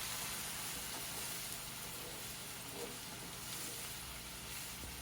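Vegetarian paella with broth being stirred and mixed in a pan gives a steady, continuous sizzling hiss with soft scraping, moderately close and even throughout, with no talking.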